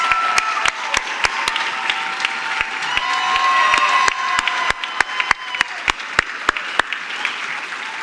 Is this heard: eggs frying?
no